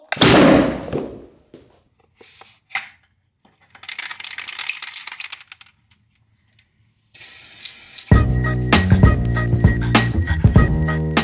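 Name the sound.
plywood potato gun firing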